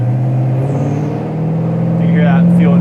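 Engine of a 1967 Pontiac GTO tribute while driving, a steady low rumble with a firm hum that rises slightly partway through, close and loud, with a voice talking over it.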